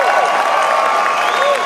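Audience applause and crowd noise at a live concert in Boston, a steady wash of clapping and cheering from a large crowd, sustained and loud throughout the short moment.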